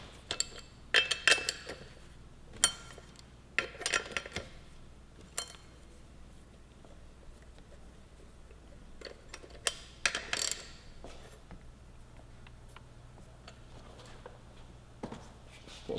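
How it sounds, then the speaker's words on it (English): Hand tools working the rear sprocket nuts on a 2015-2017 Yamaha R3 sport bike, giving scattered metallic clicks and ratcheting bursts in clusters, close and moderately loud, with quieter gaps between. "I'm going to loosen each one of the nuts"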